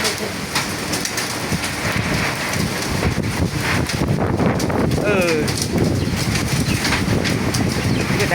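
Heavy rain pours down at a farm during a storm with strong wind, a dense steady roar of water throughout, with a voice speaking over it.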